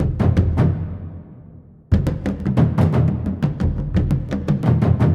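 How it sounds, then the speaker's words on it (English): A New World percussion kit plays an action groove built on two notes: a booming hit that rings out and decays, then a driving run of rapid, punchy drum strikes. "on this New World percussion kit here, I'm really using just two notes"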